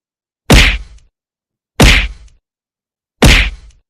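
Slap sound effect played three times at even intervals of about 1.4 seconds, each a sharp, loud, close smack with a brief decay into silence.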